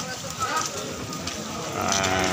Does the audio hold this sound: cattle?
yes